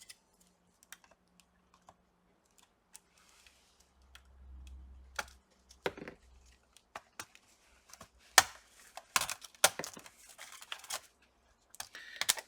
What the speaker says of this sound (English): We need something sharp to get the keyboard out.